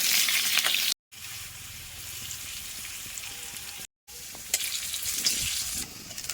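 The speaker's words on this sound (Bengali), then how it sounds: "এই তেলেই মিডিয়াম ফ্লেমে আলুগুলো নুন দিয়ে ভেজে নিচ্ছি" Potato pieces frying with salt in oil over a medium flame make a continuous close sizzle with crackle and stirring, broken by two brief silent gaps, no voices.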